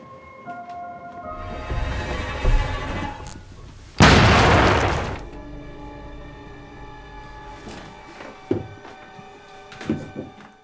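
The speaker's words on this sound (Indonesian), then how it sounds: "David pun beraksi dan meledakkan bom" A bomb goes off in a movie scene with a sudden loud boom that trails into a roaring rumble, set among tense ambient sounds and a few scattered thumps afterward.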